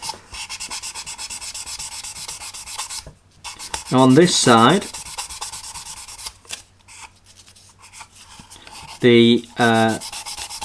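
Fine sanding of a 22-inch Eagle 1 spacecraft model kit to reduce scratch lines, a steady close rubbing rasp that runs throughout, with brief spoken remarks in two places.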